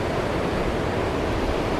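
Steady broadband roar of sea waves breaking at a beach in Uruguay, a continuous loud wash of surf with no voices.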